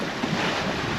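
Steady broadband wind roars across the microphone on a sailboat at sea, with a wash of water and waves beneath, continuous and fairly loud with no voices.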